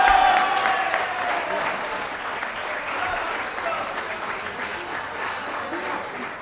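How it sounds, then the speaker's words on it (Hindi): An audience at an open mic poetry event bursts into loud clapping that settles into sustained, dense applause from a crowd. "जोरदार तालियां एक बार सर के लिए"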